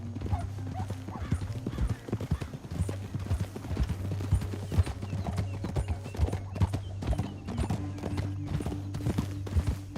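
Horse hooves clip-clopping in steady rhythm in the Western video game Red Dead Redemption 2, in a canyon, close and continuous over a low musical drone, with a horse whinny mixed in.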